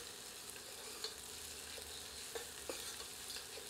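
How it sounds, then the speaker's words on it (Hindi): Onions frying in a pan with broken whole red chillies for a double-layered chicken curry, giving a soft steady sizzle with occasional light stirring scrapes, fairly quiet and without talk. "अब इसमें 3 साबुत लाल मिर्चों को तोड़कर डाल देते हैं और भूनते रहते हैं जब तक कि प्याज पारदर्शी नहीं हो जाती"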